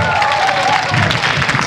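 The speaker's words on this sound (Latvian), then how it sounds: "paldies skaņu vīram īpašs aplausi atsevišķi" An outdoor crowd at a kokle folk music concert in Līgo park claps loudly and steadily for the sound engineer, a brief, dense burst of applause with a voice faintly under it at the start.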